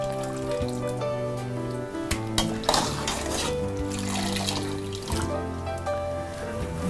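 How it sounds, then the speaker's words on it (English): Water and spinach clatter in a cooking pot as a lamb and spinach biryani is prepared in Alacati, with pot and utensil knocks and liquid sloshing over steady background music. "it looks like she's boiling the spinach in water"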